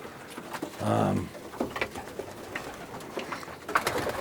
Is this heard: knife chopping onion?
no